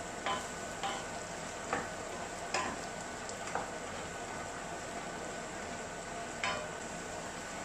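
Onions and capsicum sautéing in a pan with a soft, steady sizzle, broken by several scattered scrapes and taps of a spatula stirring, with no talk.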